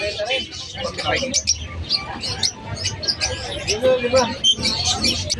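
Green Fischer's lovebirds at a pet market give rapid, sharp chirps and squeaks in dense overlapping bursts, close and lively, with human chatter mixed underneath.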